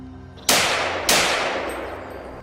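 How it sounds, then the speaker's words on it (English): Rifle shots fired during a wild boar hunt: two loud, sharp reports about half a second apart, each followed by a long echoing decay, with no talking. "Another gunshot rang out almost simultaneously."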